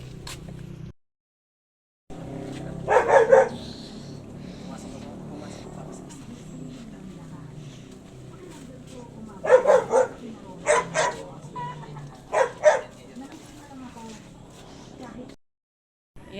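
A big dog barks in several short bursts out in a Filipino neighbourhood, with a low steady hum and background chatter running underneath.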